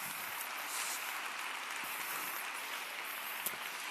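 Steady audience applause at a Naukas 2021 science talk, a dense even wash of many hands clapping at moderate distance, continuous throughout with no voices on top.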